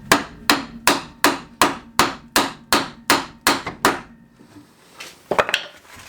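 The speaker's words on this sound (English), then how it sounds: "And some more bashing for the lower ball joint." A hammer bashes a car's lower ball joint loose during a Mk2 brake upgrade, landing about ten loud, evenly spaced metallic blows up close, followed by a few scattered clanks.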